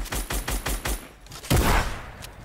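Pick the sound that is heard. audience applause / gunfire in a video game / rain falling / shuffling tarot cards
gunfire in a video game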